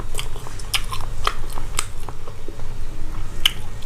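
Crispy pork belly being bitten and chewed up close, several sharp crunchy bites spaced through a steady chewing rhythm, with no talk over it.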